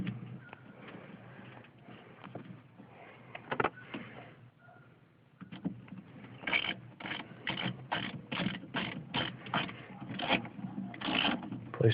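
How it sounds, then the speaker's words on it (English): An electric screwdriver drives screws into a door latch actuator from a 2008 Honda Odyssey, giving a run of short, evenly spaced whirring bursts close by in the second half after a quieter stretch of handling noise. "Make sure my screwdriver is on. Screw it in."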